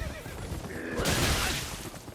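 Horse neighing in a video game, a loud, close whinny that rises into a bright, shrill burst in the middle, with hoof-like clatter and scuffling around it.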